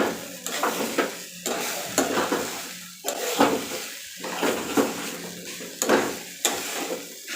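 Poha stirred and fried in a pan, with loud rhythmic scraping strokes roughly every half second over a continuous close sizzle.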